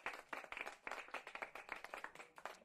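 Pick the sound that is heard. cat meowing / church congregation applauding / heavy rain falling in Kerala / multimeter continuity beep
church congregation applauding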